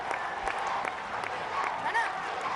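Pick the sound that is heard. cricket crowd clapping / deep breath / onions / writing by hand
cricket crowd clapping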